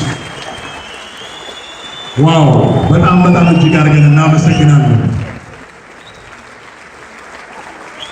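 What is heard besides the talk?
audience applause at film premiere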